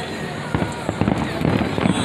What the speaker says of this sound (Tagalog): Did you enjoy the fireworks display?